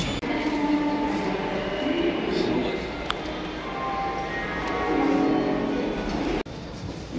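A train rumbles and rattles at a busy Howrah railway station, a continuous mid-distance roll with occasional clanks, heard under scattered nearby voices.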